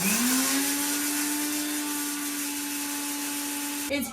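An electric mixer grinder grinds black and white mustard seeds in a home kitchen. It gives a steady, loud whirring hum that runs throughout and stops abruptly near the end.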